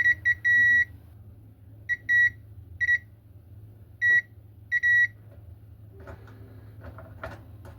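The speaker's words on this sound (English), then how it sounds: "Hear these beeps, make sure the multimeter is working and is accurate." A multimeter gives a series of short, sharp electronic beeps, about six in a row with uneven gaps, loud and close, followed by faint clicks and handling noise.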